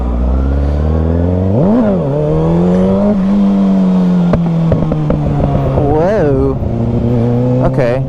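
A motorcycle with stock gearing, mounted on a wheelie machine, revs loudly and rises in pitch as the throttle opens, then holds a steady, strong drone with a few more surges. The engine is close and continuous, and a person briefly exclaims over it.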